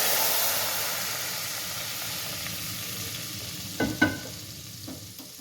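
Hot tadka hits a pot of masoor dal with a loud, steady sizzle that slowly fades, followed by a couple of sharp clinks near the end.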